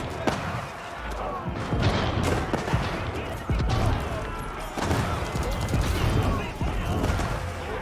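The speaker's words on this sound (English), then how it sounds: "Hand cannons and bombard cannons." Hand cannons and bombard cannons fire in an Age of Empires 4 battle, with repeated gunshot-like cracks and booms layered over a dense, continuous din of combat clatter and mechanical noise throughout.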